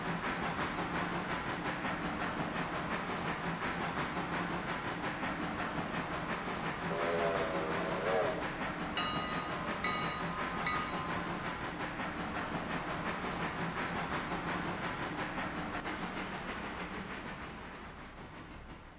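Train running in the RailRoader simulator: a steady rumble and rolling rail noise fills the whole stretch, with brief tonal squeals or whistle-like tones around the middle, fading slightly near the end, with no talking.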